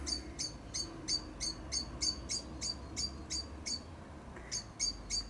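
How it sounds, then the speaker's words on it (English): A blackbird gives a rapid series of sharp, repeated chipping alarm calls in a garden, regular and fairly faint, over quiet background noise. "Can you hear the blackbird, folks?"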